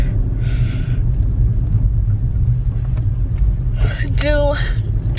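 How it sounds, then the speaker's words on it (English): Steady low road rumble from inside a moving car, continuous engine and tyre noise filling the background, with a brief higher tone near the end and no talk. "We are in the car headed back to base."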